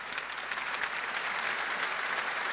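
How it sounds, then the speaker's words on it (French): Congregation applauding in a church, steady even clapping from a crowd heard throughout, fairly faint and slightly distant. "Je voudrais demander de l'applaudir. Applaudissez André."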